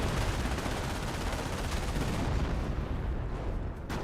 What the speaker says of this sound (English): MG42, Pack 38 firing away